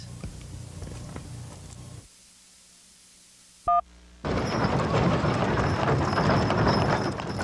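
Mules and donkeys walking at a state fair, hooves clip-clopping amid steady crowd and outdoor noise, with a brief quiet gap partway before the busy ambience returns louder.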